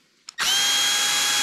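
A cordless power tool whirs loudly as it spins out Allen bolts on a fat bike stand for a Mongoose Argus Sport. A brief click comes first, then the motor runs at a steady high pitch.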